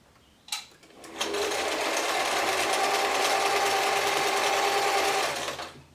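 A German-made Singer 720 sewing machine stitches a blind hem in one continuous, close burst of rapid mechanical whirring lasting about four seconds, preceded by a couple of sharp clicks.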